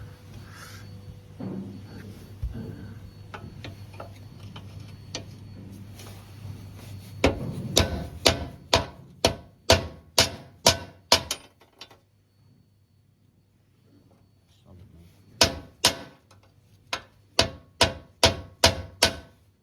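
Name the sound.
repeated whacks hitting rusty metal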